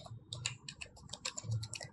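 Fingers type on a computer keyboard, a quick irregular run of close, faint key clicks over about two seconds, with no talking.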